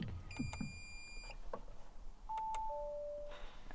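Inside a crashed Audi R8 under repair, switching on the ignition sets off a faint run of electronic chimes and beeps, with a short two-tone ding near the end against quiet background.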